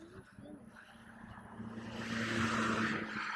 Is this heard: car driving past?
yes